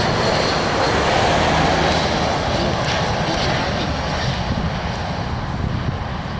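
An airliner in a classic livery takes off at Orlando International Airport, a loud, steady roar of jet engines filling the air without letup.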